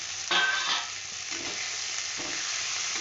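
Soybeans frying in a pan for aloo posto sizzle steadily as they are stirred, with a few clearer scraping strokes near the start, close and alone without any voices.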